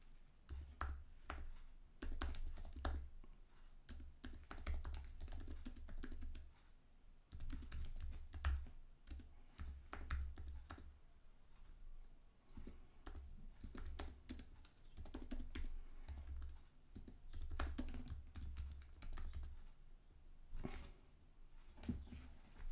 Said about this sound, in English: So let's type in something here.